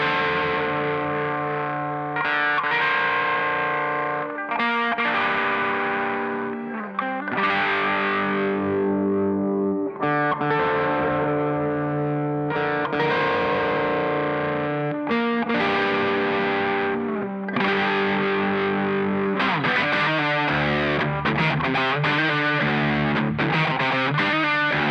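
Electric guitar through a Boss DS-1 distortion pedal plays sustained chords and riffs, thick and saturated, continuously for the whole stretch with no talking.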